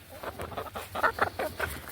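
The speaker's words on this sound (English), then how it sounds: "trying to walk around 14 chickens without tripping over every single one of them" A flock of fourteen backyard chickens clucks close underfoot, a busy scatter of short soft clucks and murmurs in quick irregular bursts.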